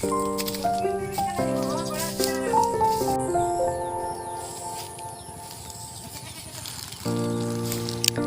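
Goats bleat repeatedly, with a few animal calls fairly close and loud, at a rural Santali village farmyard. Background rustle and faint voices sit under them.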